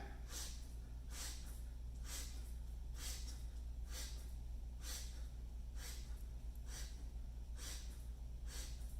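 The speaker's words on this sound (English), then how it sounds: "Now let's sniff it out." Repeated sharp sniffs through the nose in a steady rhythm, about one per second, close and breathy over a low hum.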